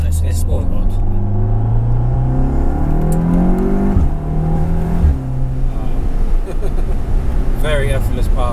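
A turbocharged 560 bhp 2.0-litre all-wheel-drive Skoda Superb engine rises in pitch as it accelerates through gears in sport mode, a steady droning hum with a whooshing note, while people talk over it inside the cabin.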